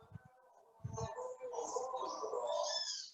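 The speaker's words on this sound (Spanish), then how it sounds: "¿Se escuchan los pájaros?" Birds sing outside in a lively, rising chorus of chirps and trills, preceded by a couple of short low coos like a pigeon or dove, heard faintly behind an online class.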